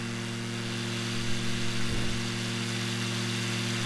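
Steady, loud drone of an Icon A5 light amphibious aircraft's engine in flight near Lake Berryessa, a constant tonal hum heard from inside the cockpit with a brief rumble midway.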